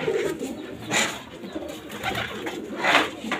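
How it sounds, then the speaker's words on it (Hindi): Hyderabadi pigeons coo nearby in soft, low calls, with two louder swells standing out against steady background noise. "ये सारे नए कबूतर अभी ताओ में भाई"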